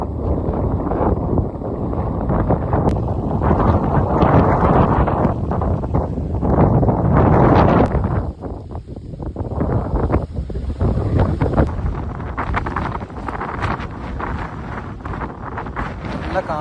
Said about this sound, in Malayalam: നല്ല കാറ്റുണ്ട്, അതുപോലെ ചെറിയ ചാറ്റൽ മഴയുണ്ട്.